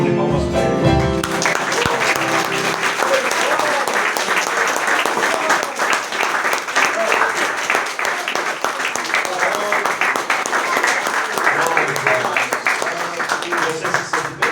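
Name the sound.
church congregation applause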